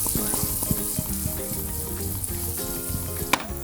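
Grapes sizzle with sugar in a hot pan as they are quickly sautéed. A steady, close crackling fry continues throughout, with small pops and a brief clink near the end.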